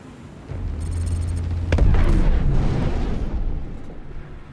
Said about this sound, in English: It's just a flurry of bullets.